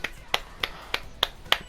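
Sharp hand claps, six evenly spaced, about a third of a second apart, crisp and close with nothing else around them.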